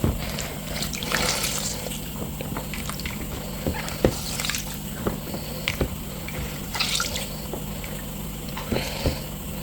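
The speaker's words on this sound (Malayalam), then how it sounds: "എന്നിട്ട് നന്നായിട്ട് വെള്ളം പിഴിഞ്ഞെടുക്കണം." Turmeric-soaked mushrooms are wrung out by hand in a home kitchen, giving close wet squelches and irregular trickles of water dripping and splashing, with a low steady hum underneath and no talking.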